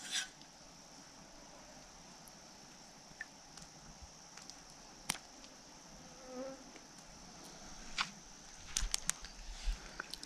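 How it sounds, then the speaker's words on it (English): Mosquitoes whining faintly around a lakeside camp in the Boundary Waters wilderness, a thin continuous buzz with a few closer passes and small knocks and rustles, no talk. "the mosquitoes are absolutely skitting out right now"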